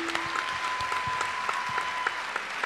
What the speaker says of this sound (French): Bravo, bravo, bravo, on vous applaudit